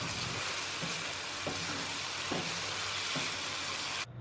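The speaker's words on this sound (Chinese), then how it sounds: "快速的将其翻炒" Tofu and white beech mushrooms stir-fried over high heat in sauce, a steady close sizzle and hiss with a few soft stirring knocks, cutting off abruptly at the end.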